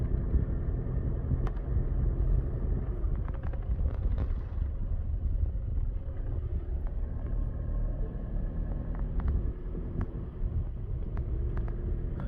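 A car engine idles and runs steadily close by outdoors, a continuous low rumble that holds through the whole stretch, with scattered light clicks and knocks on top and no talking.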